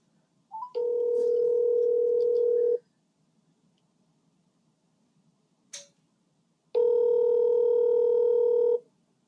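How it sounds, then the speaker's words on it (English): An outgoing telephone call rings out during a live podcast's phone-a-friend segment; two long electronic ringback tones, each about two seconds, separated by a pause with a brief click, clear and alone. "We'll phone a friend."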